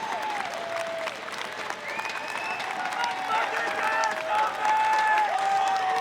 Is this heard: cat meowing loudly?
no